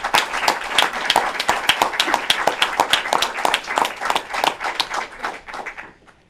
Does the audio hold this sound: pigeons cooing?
no